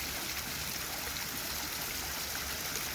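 Small waterfall spilling into a backyard goldfish and koi pond, a steady close splashing and trickling rush that runs evenly with no talk.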